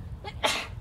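A single sharp sneeze bursts out, close and loud, preceded by a brief intake of breath, with low background rumble.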